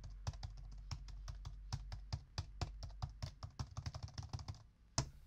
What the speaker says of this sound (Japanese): キーボード打つときはこんな音しますね。